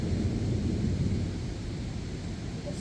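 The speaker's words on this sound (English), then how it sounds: "There's so much rain." Steady, dense rush of heavy rainfall, a constant broadband hiss with a low rumble underneath, no voices.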